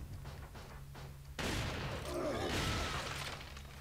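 Gunfire in Resident Evil 4: a sudden loud blast bursts in partway through and rings out in a long, noisy echoing tail, following a stretch of low ambient hum.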